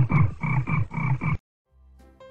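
A frog croaks in a loud, close series of about five rapid rasping calls in a children's fairy tale, followed by a short silence and a faint musical tone.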